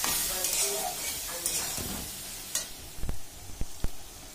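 Ghugni masala being sautéed with salt and turmeric in a pan: a low sizzle runs under several sharp stirring scrapes and knocks of a spoon against the pan, with the clatter growing louder toward the end.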